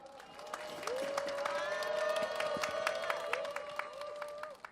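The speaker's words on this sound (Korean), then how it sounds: "큰 박수 부탁드립니다" Big applause with some cheering from a crowd at a Save Korea rally in Yeouido, Seoul, a steady wash of clapping held for several seconds while a long sustained tone rings through it.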